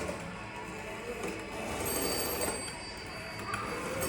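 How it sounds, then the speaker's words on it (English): Bell of a rotary dial telephone ringing steadily and fairly faintly for a few seconds within a noisy, washed-out background. "Watching your kids use a rotary dial phone and they don't know how it works."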